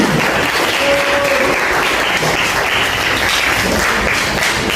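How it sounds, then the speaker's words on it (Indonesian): A classroom of students claps together, a loud, dense and continuous burst of applause that holds steady throughout, with a faint voice in the background. "Bagus, kita kasih tepuk tangan."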